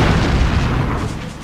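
The main guns of the German battleship Bismarck fire a heavy salvo in World of Warships, a loud, deep booming roar that rumbles and slowly fades across the whole clip.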